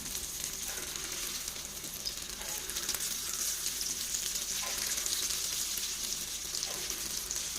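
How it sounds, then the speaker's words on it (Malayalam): Spoonfuls of unniyappam batter fry in hot oil in an appam pan, making a continuous even sizzle up close that holds steady throughout, with no talking. "ഉണ്ണിയപ്പ ചട്ടിയിൽ കുറച്ച് ഓയിൽ ഒഴിച്ചിട്ട് ചൂടാക്കിയതിന് ശേഷം ഓരോ സ്പൂണ് മാവ് നമുക്കിതിലേക്ക് ഒഴിച്ചു കൊടുക്കാം"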